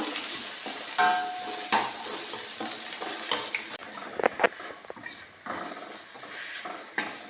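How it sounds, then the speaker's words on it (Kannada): Onions sizzle and fry in a pan for a coconut dal with green chillies, a steady crackling hiss broken by several scraping stirs of a spoon against the pan, close and fairly loud. "ಈಗ ಈರುಳ್ಳಿ ಇದು ಚೆನ್ನಾಗಿ ಫ್ರೈ ಆಗಬೇಕು"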